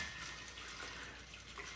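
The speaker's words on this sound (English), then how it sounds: "Dump out the ice and the water in the glass." Ice water poured out of a chilled glass while making a martini cocktail, a short, faint splashing trickle with no talk.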